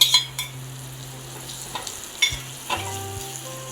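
Spiced oil tempering for dal fry, with Kashmiri chilli, sizzles and crackles loudly up close in a pan, with sharp pops and a few metallic clinks of stirring over the hiss.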